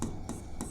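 Chalk or marker scratches across a board in three short strokes at an even pace, each a soft hissing scrape close by, with no voice over them.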